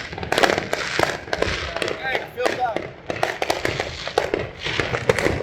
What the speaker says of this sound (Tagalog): Mag-fireworks na.